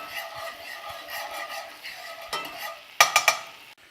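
Pork chop pan sauce with Dijon mustard and thyme bubbling in a cast iron skillet, a close crackling simmer with scraping stirs and a few sharp utensil clinks near the end.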